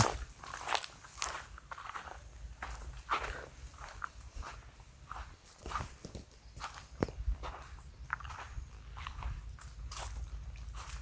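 Crunching footsteps on loose, gritty ground, a steady walking rhythm of scuffs and crunches close by, with no talking.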